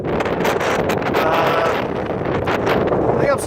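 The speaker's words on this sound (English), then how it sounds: "So it is pretty windy out here." Gusty wind roars across the microphone while cycling, a loud buffeting rush that swells and eases in waves, with a voice speaking faintly beneath it.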